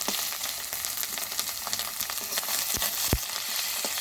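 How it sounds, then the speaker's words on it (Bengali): Chicken masala fries with turmeric and chili paste in a pan, a steady close sizzle with scattered sharp scraping and clicking from stirring, including one louder knock; no talking. "হলুদ লঙ্কা সব কষিয়ে নিচ্ছে"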